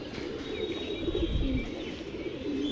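Released pet pigeons coo softly in low, rolling murmurs close by during a morning flight session, with faint chirps overhead and a possible flutter of wings.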